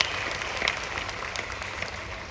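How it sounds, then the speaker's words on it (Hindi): Distant, even applause from a crowd at a Vestige business event, a soft continuous wash of many hands clapping that holds steady without voices over it. "एक बार जोरदार तालियां हो जाए वेस्टीज के लिए."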